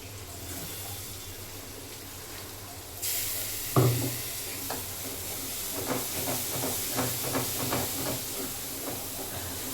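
Chilli powder and ground onion-coconut masala paste cook in a pan, a steady hiss jumping louder after a few seconds, with a sharp clatter as the paste goes in and soft stirring scrapes over continuous sizzling.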